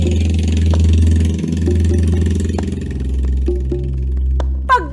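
A motorcycle engine running steadily at close range in a rural village after heavy rain, a loud, even low drone with brief small clanks and a rising whine near the end.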